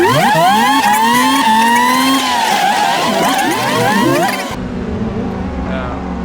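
AI-driven race car engine in the BeamNG video game, revving loud and continuous with rising and falling pitch sweeps, other engines overlapping, then a sudden cut to a quieter engine drone.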